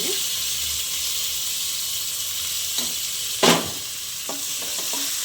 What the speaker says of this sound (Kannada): ಇದನ್ನು ಚೆನ್ನಾಗೇ ಹಸಿ ವಾಸನೆ ಹೋಗೋವರೆಗೂ ಫ್ರೈ ಮಾಡ್ಕೊಳ್ಳೋಣ